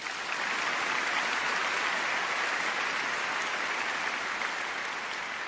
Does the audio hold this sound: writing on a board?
no